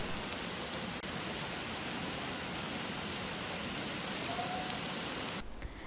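Heavy monsoon rain pours down in the Konkan region as a dense, unbroken hiss that stays loud and even for several seconds before cutting off abruptly.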